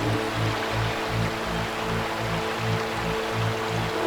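Steady river current washes beneath a bamboo raft on a calm day at moderate water level, a continuous close rushing flow with soft regular low thumps, no voices.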